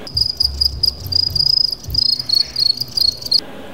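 Farmed crickets in Kenya chirp in rapid, high-pitched trills, several insects overlapping in a steady pulsing rhythm, close and clear with no voices.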